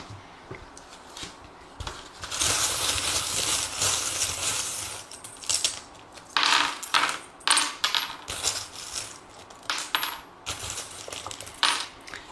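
Small metal charms cast and rattled for a divination reading, with a sustained clinking shower early on and then a series of separate light jingles and taps, close and alone.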